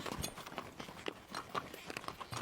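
A horse walks on a rural trail along the Camino Real between Pánuco and Zacatecas, its hooves clip-clopping in a steady, fairly faint rhythm over outdoor background noise.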